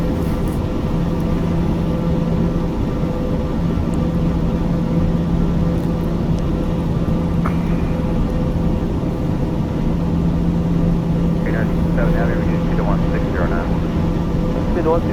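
Steady, droning turboprop engine of a Black Square TBM 850 in Microsoft Flight Simulator, a constant hum running throughout while someone talks over it.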